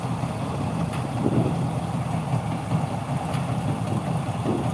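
The engine of a paddy harvester machine idles during a rice harvest, a steady, continuous low rumble that holds at an even loudness throughout, with no voices.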